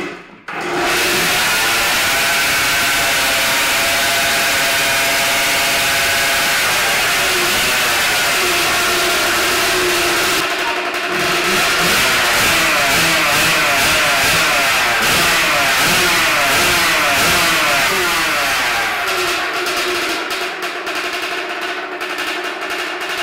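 A 1977/78 Simonini MC 50 moped engine starts and revs hard, its loud rasping two-stroke note rising and falling in repeated blips at close range for over twenty seconds.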